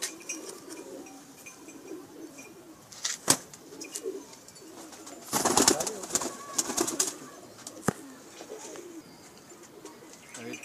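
Pakistani pigeons coo softly and repeatedly in a loft, with a few sharper clicks and flutters and a burst of louder activity midway.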